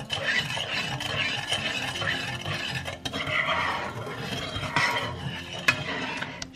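A spoon scrapes and swirls steadily around a saucepan while making a pumpkin spice latte, soft rhythmic stirring with occasional light clinks against the metal.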